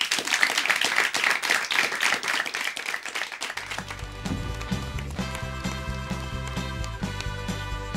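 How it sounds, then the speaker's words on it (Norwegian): A studio audience at a student TV show claps for guests in dense, loud applause that fades after a few seconds into rhythmic theme music. "Men først en applaus for Børre Olsen og Mari Monsson."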